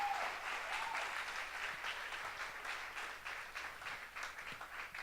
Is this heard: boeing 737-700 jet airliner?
no